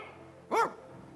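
A dog gives a single short bark, moderately loud and close, against a quiet background with no talking.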